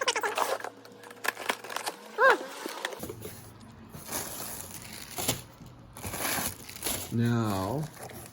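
Carburetor shipment packaging being cut open and unwrapped during the unboxing of parts for a 1972 Volkswagen Westfalia, with crinkling and rustling bursts amid clunks, a voice talking at moments throughout.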